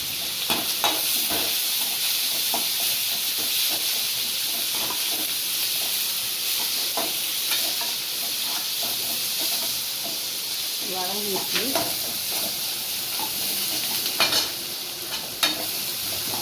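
Garlic, onion, curry leaves and dried chilli fry in a pan with a continuous close sizzle, punctuated by repeated stirring scrapes and taps, and a few louder clatters near the end; no one speaks.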